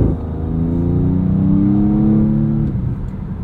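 A 2023 Audi S6 accelerates hard from a launch, its engine note swelling steadily and loudly with a deep, continuous rising drone heard from inside the cabin, with no speech over it.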